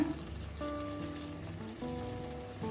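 Tomatoes fry in a pan with a soft, constant sizzle and crackle, faint and low in level, with tonal background music playing over it.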